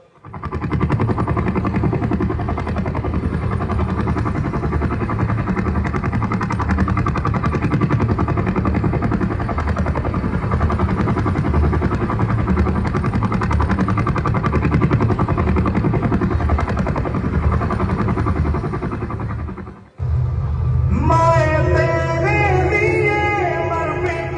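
A helicopter carries a soldier's body to Androth island in Lakshadweep. A steady, loud rotor and engine roar fills about twenty seconds, then cuts off abruptly as music takes over.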